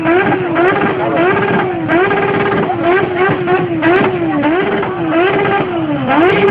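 A motorcycle engine revs hard at a moto show, giving loud close wavering revs that rise and fall repeatedly and keep going for the whole stretch.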